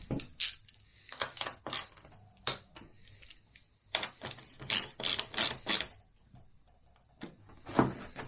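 Ratchet clicks in short bursts as bolts are tightened on a KTM 390 Adventure motorcycle, quick metallic ratcheting strokes repeating with brief pauses, close by and without talk.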